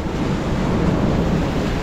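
Ocean waves surge up the eroded beach at Boa Viagem in Recife, a steady close wash of surf mixed with wind buffeting the microphone.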